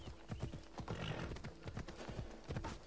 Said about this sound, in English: Horse, come here.